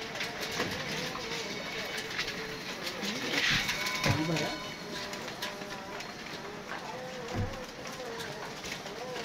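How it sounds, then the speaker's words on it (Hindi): A captive blue-coloured pigeon coos softly in low, warbling phrases under steady background noise, while people talk nearby. "देख ये नीले रंगों वाला एक कबूतर आज पकड़ा हमने"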